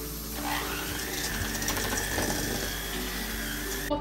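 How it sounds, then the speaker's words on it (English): Electric hand mixer whirring steadily at close range while mixing batter in a bowl, a continuous mechanical buzz with faint rattling and no talking. "Now, we're gonna take the power mixer and mix this."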